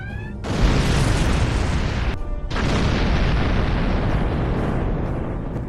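A starship under attack in a Star Trek game rocks with heavy, continuous explosions, loud booming blasts rumbling almost without pause and cut by one short gap.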